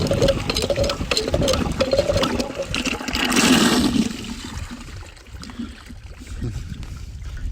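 Water pouring from an old cistern into a tin can: a loud, turbulent, gushing rush that swells in the middle and then eases into a lighter trickle, close by.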